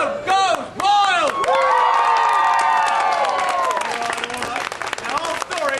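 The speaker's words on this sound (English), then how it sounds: "And the crowd goes wild." A theme-park street-show audience in Italy's Epcot World Showcase cheers, whoops and applauds loudly for several seconds, with shouts and claps filling the whole stretch and tapering slightly toward the end.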